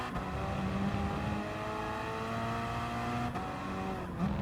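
Gr.4 race cars in Gran Turismo Sport scream around Laguna Seca in a pack, engines revving up and down through shifts with occasional tire squeal, loud and continuous with no voices.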